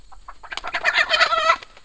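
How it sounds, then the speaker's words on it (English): A hen clucks in a quick, close-up burst of soft, rising clucks while being hypnotized, growing louder and denser through the middle before stopping abruptly, with no voices over it. "This is how you hypnotize a chicken, Johnny tells me."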